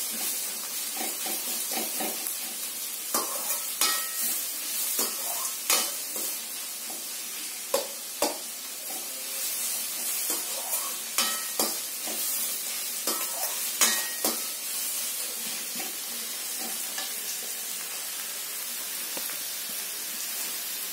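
Chopped onions sizzle steadily in a hot pan, browning toward golden for egg podimas, while a utensil scrapes and stirs them in repeated strokes, close and fairly loud.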